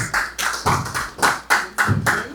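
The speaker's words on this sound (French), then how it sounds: "On applaudit pour le numéro 16." Audience applause greets a drawn number at a televised lottery draw, a loud steady burst of many hands clapping in rhythmic surges throughout, with no talk over it.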